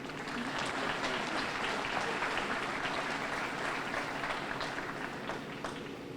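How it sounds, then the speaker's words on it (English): Steady audience applause fills a police recruit class graduation ceremony for the IMPD 20th Recruit Class, with dense, continuous clapping from a large crowd holding an even level throughout. "You may clap."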